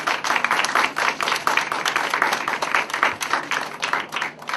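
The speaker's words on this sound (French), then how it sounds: "vous l'applaudir encore" Audience applause at a women's chess event in Paris, a dense, lively patter of many hands clapping continuously and fairly close, with no talking.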